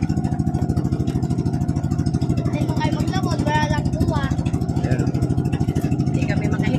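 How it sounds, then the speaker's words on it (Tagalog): A boat engine runs steadily and quietly during a test, a low continuous mechanical hum throughout, with voices and other sounds faintly over it. "mahinang ingay ng makina kasi dinitesting din pati yung minor ng makina kung okay pa"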